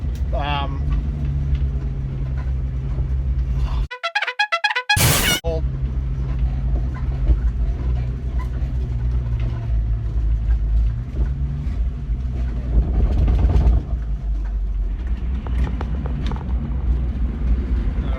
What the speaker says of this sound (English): she's revving a bit high with that new carby.